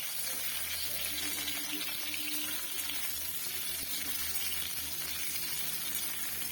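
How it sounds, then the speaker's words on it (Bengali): Potatoes frying in hot oil with panch phoron, a steady broadband sizzle holding throughout, close and even with a low background hum. "আর এবারে তেলের মধ্যে একটু পাঁচফোড়ন দেবো পাঁচফোড়ন দিয়ে আলুগুলো ছেড়ে দেবো"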